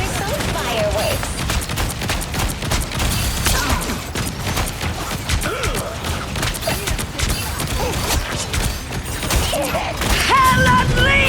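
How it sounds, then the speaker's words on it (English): Rapid explosive blasts and gunfire from a fireworks ability in the Marvel Rivals video game, a dense, loud barrage with game voices over it. "Time for some fireworks."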